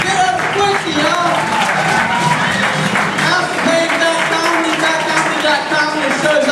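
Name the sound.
comedy club audience applause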